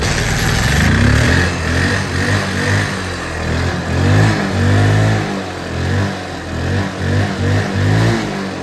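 A Mahindra Centuro motorcycle engine, freshly fitted with a new CDI, starts and revs repeatedly, climbing and dropping in loud close bursts between rough idle.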